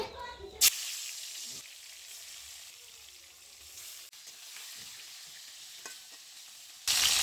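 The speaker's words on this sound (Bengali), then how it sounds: "পিসগুলো সব একবারেই দিয়ে দিলাম, তেল একটু বেশি করে দিয়েছি। একবারে সব ভাজি" Fish pieces dropped all at once into a generous amount of hot oil burst into loud sizzling at the start, settle into a quieter steady hiss with faint pops, then flare loudly again at the end.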